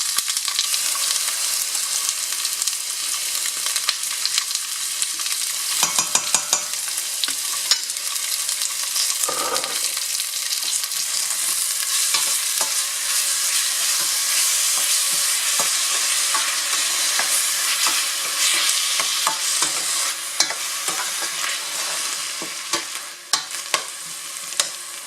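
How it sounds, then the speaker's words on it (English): Sofrito sizzles steadily in a hot pan while a utensil stirs and scrapes through it, a continuous close frying hiss with occasional clinks, no talking. "Now we're going to put some sofrito."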